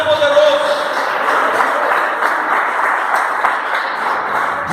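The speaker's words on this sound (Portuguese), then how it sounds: "Então aplaude e glorifica esse Deus que é poderoso." A church congregation applauds in a steady wash of clapping that lasts several seconds, with a voice speaking over it.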